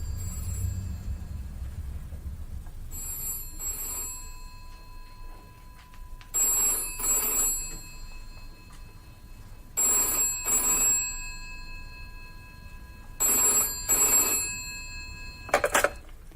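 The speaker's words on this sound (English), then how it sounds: "Is that the phone?" An old-fashioned telephone bell rings in four separate bursts, each a double ring, with quiet room tone in between and a short final jingle.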